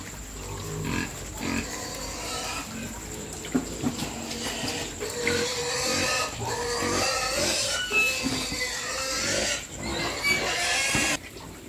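Farm-raised wild boar piglets feed close by, a busy mix of grunts, snuffling and chewing with some splashing water mixed in, continuing without talk.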